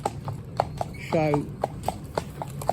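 A Fell pony's hooves clip-clop in a steady, even rhythm of sharp nearby strikes, with a voice briefly speaking over them.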